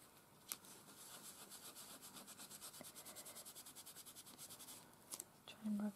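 Rubbing chalk marker off a surface: a quiet, rhythmic series of rapid scrubbing strokes for several seconds, close by, with a soft voice at the end.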